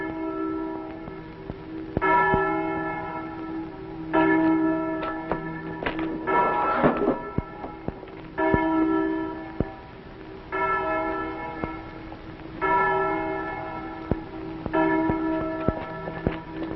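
A church bell rings out in slow, evenly spaced strikes. Each toll rings on and fades before the next one, and the sound is loud and resonant.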